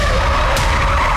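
A car skids during a crash in a crime drama scene: a loud, close tyre screech over a rough engine roar, with a sharp burst midway and no voices.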